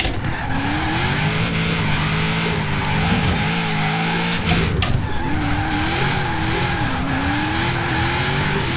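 A car drifts in the racing game Forza Horizon 4, with a loud, continuous tire squeal that wavers in pitch over a steady high-revving engine drone for the whole stretch.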